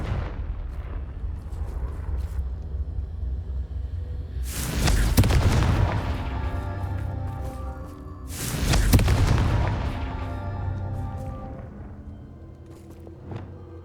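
Two heavy Confringo spell explosions in a fantasy wizard game, each a loud booming blast with a rumbling tail, a few seconds apart over low ambient hum.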